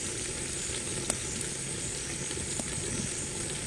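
Country chicken curry sizzles and simmers in a clay pot, giving a steady close frying hiss with a couple of faint clinks, and no voices over it.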